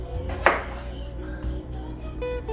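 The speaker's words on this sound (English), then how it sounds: "I'm just cutting these in quarters, so I'm cutting it in half and then in quarters." A knife cuts red potatoes into quarters on a board. A soft near chop is followed by quieter taps and light background noise, with no speech.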